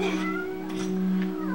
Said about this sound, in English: Oh, don't meow at me.